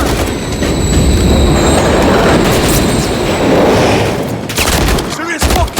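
A train roars past in a Call of Duty Modern Warfare 3 battle, loud and close with metallic screeching and rattling wheels, then gunfire and shouted voices break in near the end.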